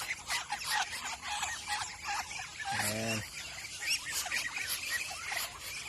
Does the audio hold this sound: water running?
no